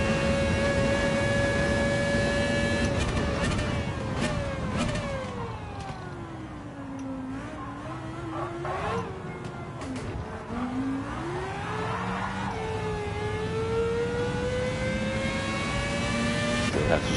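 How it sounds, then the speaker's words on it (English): A Renault Espace F1 spins its wheels under throttle in Gran Turismo 7 at Yas Marina. The engine note dips, then swoops back up in wavering pitch, loud and unbroken for the whole run. "Have to stop the wheel spin."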